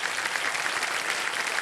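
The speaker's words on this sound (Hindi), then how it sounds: "बहुत बहुत स्वागत तालियों के साथ" A studio audience at a quiz show claps in a dense, steady burst of applause that fills the short moment with no voices over it.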